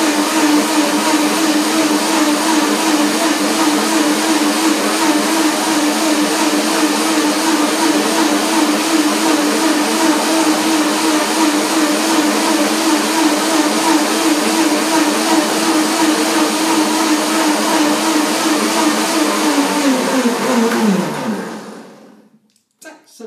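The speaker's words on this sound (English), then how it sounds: "Now I will make the blender dance" A blender whirs continuously while mixing an orange, hazelnut and avocado dressing, a loud, close, even roar lasting about twenty seconds before spinning down and stopping.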